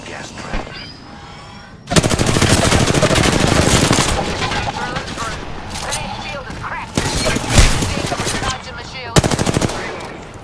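Automatic gunfire in a video game shootout, long rapid bursts of loud close shots broken by short pauses, with players talking between and under the firing.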